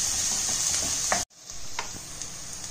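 Finely chopped onion fries on a medium flame for Rajasthani gatte ki sabzi gravy, a loud continuous close sizzle with faint crackles that cuts out abruptly for a moment, then resumes just as strongly.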